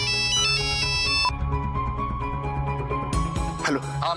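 A mobile phone's electronic ringtone melody sounds loud and near, its repeating notes briefly broken partway before playing on, with voices faintly underneath.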